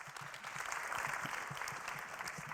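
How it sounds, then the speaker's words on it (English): A panel-debate audience gives a fairly faint, steady round of applause, many hands clapping together at a distance without any talk. "Give him an applause so we get going here."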